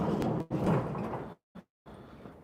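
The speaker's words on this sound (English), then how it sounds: "Let me just shut the door." A workshop door slides shut with a loud rolling rumble lasting over a second, then stops with a brief knock and falls silent.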